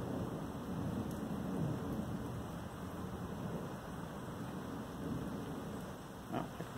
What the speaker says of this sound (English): A little bit more rain.